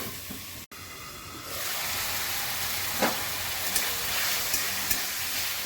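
Ridge gourd with flattened rice frying under a lid in a pan gives a steady, close hiss and sizzle with faint scattered pops, running alone from start to finish.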